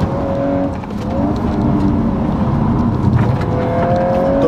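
A 320-horsepower Volkswagen R model drives hard along a clean asphalt forest road, its engine roaring loudly and steadily with rising and falling revs and a brief dip before pulling strongly again.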